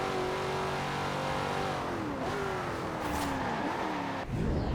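A Corvette C8 in Forza Horizon 4, fitted with a swapped 4.0 V8, revs loudly and climbs through the gears with rising engine pitch and quick shifts, then bursts onward at the end.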